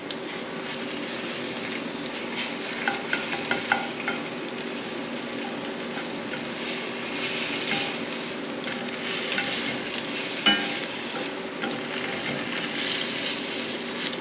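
Food fries on slightly below medium heat in a seasoned cast iron skillet, a steady close sizzle with small pops and faint stirring scrapes throughout, with no talking.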